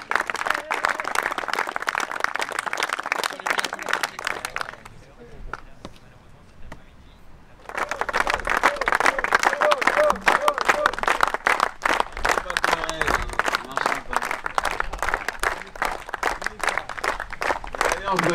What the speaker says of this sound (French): Michel, on peut aussi applaudir Michel s'il vous plaît parce qu'il a été là